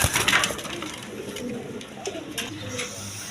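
Rajgola pigeons coo in soft, repeated low throaty calls at close range, with light rustling and wing or perch noises around them and no clear talk.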